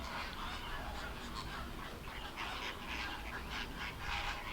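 Flock of flamingos calling noisily and nonstop, a dense overlapping chorus of honking, quacking calls over steady background noise.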